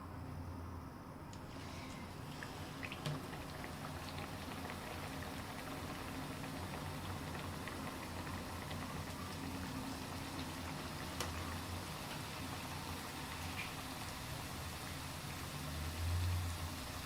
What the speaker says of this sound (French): Et là, on va passer à la friture. Il faut s'assurer que l'huile est bien chaude.